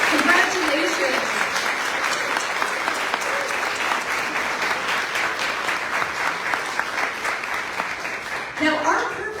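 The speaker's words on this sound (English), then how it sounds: "So please join me in giving all of the winners and finalists who are here this evening applause" Sustained applause from an audience at an independent book awards gala fills the room, loud and continuous for several seconds before tapering, with a voice speaking briefly at the start and again at the end.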